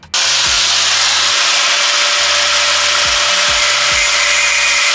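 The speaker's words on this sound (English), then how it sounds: "We're gonna try to cut this side because it actually needs to be trimmed just slightly." A power tool cuts to trim a plastic part of a cheap aftermarket steering wheel for a Honda Civic, running loud and steady for about five seconds with low shifting pitch changes in its tone.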